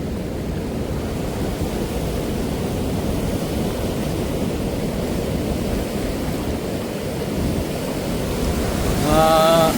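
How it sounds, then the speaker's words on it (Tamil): Floodwater released from opened sluice gates in Kilinochchi after heavy rain rushes in a constant, loud, broadband roar that never lets up, with a brief faint tonal sound near the end. "கண்ணு கட்டிய தூரம் மாதிரி தண்ணி போய் கொண்டிருக்கு"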